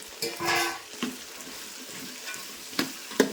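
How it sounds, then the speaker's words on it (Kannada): Onions frying to golden in a large cooking pot, with a soft sizzle under a few stirring scrapes and clanks that come at intervals, close and fairly quiet. "ಉಳ್ಳಾಗಡ್ಡಿ ಗೋಲ್ಡನ್ ಕಲರ್ ಫ್ರೈ ಇದೆ ನೋಡಿರಿ"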